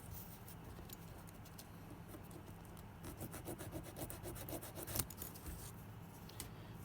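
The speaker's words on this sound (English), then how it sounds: "Just flatten that out with a bit of sandpaper." Sandpaper rubs back and forth across a trimmed plastic edge on a model signal gantry, a soft, close scratchy rasp in quick repeated strokes that grows a little busier midway.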